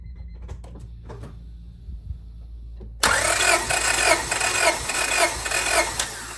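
A Honda Civic engine cranks close up during a compression test with a gauge fitted, first a few faint clicks, then a loud, steady rhythmic starter churn of about five cranks.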